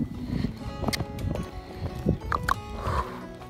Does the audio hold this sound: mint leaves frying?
no